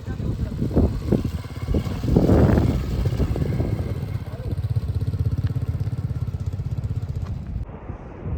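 A motorcycle engine thrums steadily and close by on an unpaved mountain road in Zanskar near remote Lingshed, with clattering bumps and some talk over the ride.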